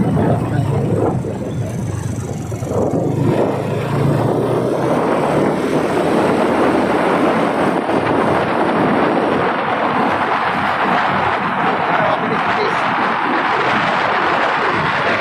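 Steady wind roars and buffets continuously for the whole stretch, loud and close, with no voices.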